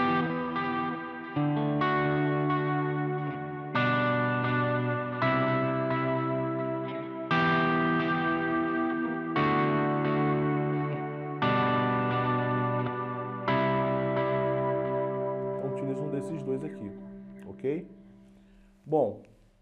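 Electric guitar played through a longer delay pedal on a pedalboard: a series of sustained distorted chords, each ringing out with repeating echoes trailing behind, followed by a few scraping string noises and a sharp knock at the end.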